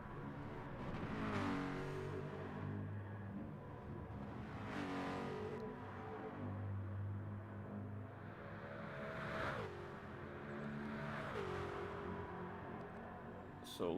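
Race car engines scream past on a track, several loud rising and falling passes with sharp revving and gear changes in a steady roaring stream.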